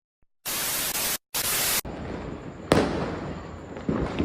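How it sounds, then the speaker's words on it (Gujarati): Firecrackers burst at a crowded fair at Salangapur Dham near Botad, giving loud broadband blasts, then a sharper crack, with crackling and rumbling noise carrying on between the bursts. "ફાઇનલી ફટાકા ફૂટે જોવો તમે"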